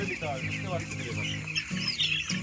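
Sonali chickens cluck during a Gumboro vaccination on a poultry farm, with repeated short nearby clucks in an uneven rhythm over a busy background.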